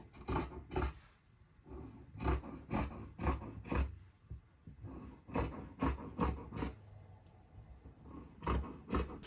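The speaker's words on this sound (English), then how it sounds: "So I'm going to cut these 5 centimetres wide." Scissors cut 5-centimetre fabric strips with a run of crisp, rasping snips in quick clusters, close and clear, broken by brief pauses.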